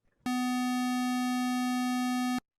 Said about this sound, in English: when we listen to the same fundamental pitch, 250, but with more harmonics present